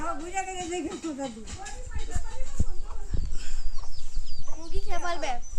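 Hens cluck nearby in scattered bursts in a village while people talk over them, the clucking growing busier toward the end.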